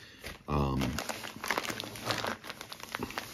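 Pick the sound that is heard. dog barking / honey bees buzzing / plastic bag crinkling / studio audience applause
plastic bag crinkling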